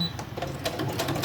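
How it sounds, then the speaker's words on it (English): Sewing machine zigzag-stitching paper folios for a junk journal, running slightly clunky as it needs cleaning; a close, steady rapid mechanical chatter of needle strokes continues throughout with no talk. "I think I need to give my sewing machine a good thorough cleaning."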